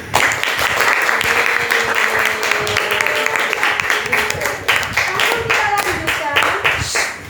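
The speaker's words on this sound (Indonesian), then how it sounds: "Kita beri aplaus sekali lagi" Sustained applause fills a school biology classroom as students clap together loudly and steadily for several seconds, with scattered voices rising over the clapping.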